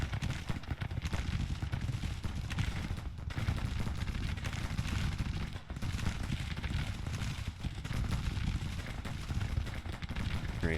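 Massed musket and rifle fire in Grand Tactician during the Confederate 1864 campaign at the Battle of Fredericksburg, a dense, continuous crackle of overlapping shots rolling without pause from start to finish.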